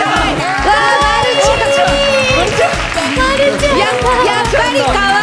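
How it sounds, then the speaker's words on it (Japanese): A crowd at an anime event in Tokyo cheers and chatters to welcome a Chibi Maruko-chan costumed guest, a dense mix of excited voices and shouts, with no clear clapping. "まるちゃん 拍手でお迎えください。"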